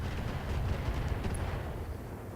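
Trebuchet in a fantasy strategy video game launching a barrage of missiles, heard as a dense, continuous low rumble of impacts and booms, fairly quiet and steady throughout with no talk.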